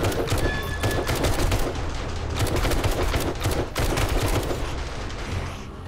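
Automated turrets fire nonstop during a massive zombie horde night in 7 Days to Die, a steady, loud rattle of rapid shots layered into a continuous barrage that runs without pause.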